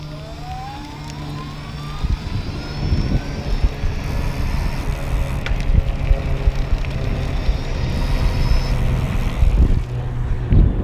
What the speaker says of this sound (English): I'm going to start it out in high because I want you to hear the motor